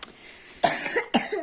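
Three short coughs from a child: one faint and quick, then two louder, harsher ones close together, with quiet room tone between.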